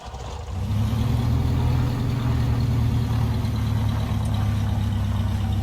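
Propeller engine of a Carenado Ovation aircraft in Microsoft Flight Simulator, a steady loud droning rumble that rises as the engine catches and then holds an even running tone.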